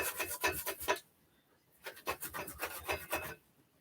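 Cassava root rasped by hand on a grater, two bursts of quick rhythmic scraping strokes separated by a short pause, close and fairly loud with no talking.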